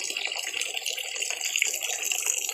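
Fermented fish being washed by hand in water while making padaek, continuous splashing and swishing close by, bright and busy throughout with no talk.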